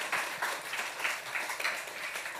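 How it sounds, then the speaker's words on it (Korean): A church congregation at a Sunday worship service claps together in sustained, fairly soft applause, an even wash of many hands heard at a moderate distance without talk. "경외의 박수 한번 하겠습니다."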